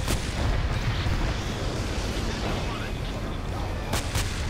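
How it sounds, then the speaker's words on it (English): Airstrike explosions rumble in the video game Renegade X, a dense barrage of booms and blasts rolling continuously at mid distance, with faint voices in the background. "I'm drawing an airstrike here."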